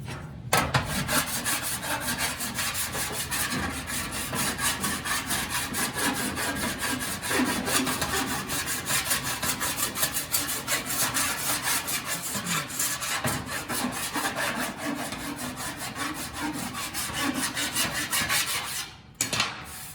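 A hand body file rasps steadily across a dented metal panel in long, continuous scraping strokes. The sound is close and fairly loud, with no voices, and a brief pause comes near the end.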